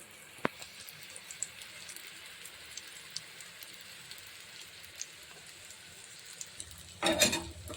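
Eggplant slices fry in a pan of oil, giving a steady, close sizzling hiss dotted with sharp little pops. Near the end comes a louder rustling burst as the pieces are stirred or scooped, with no talking.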